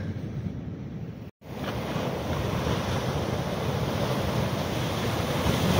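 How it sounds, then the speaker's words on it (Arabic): Sea waves wash against the coast north of Agadir in a steady rushing surge mixed with wind buffeting the microphone, briefly cut out once before returning and swelling toward the end. "هانتوما كتشاهدوا البحر،"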